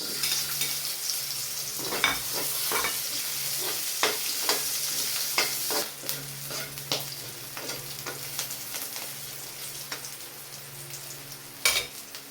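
Garlic and then onion sautéing in hot oil for a vegetable stir-fry, a steady close sizzle with repeated scraping and stirring clatter from a utensil in the pan; no talking.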